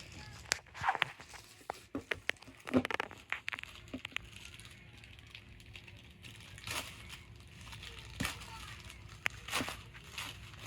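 A Youcanic scanner is lifted from its packaging, with irregular crinkles, rustles and plastic crackles in sharp bursts, busier at first and sparser later, close and moderately quiet.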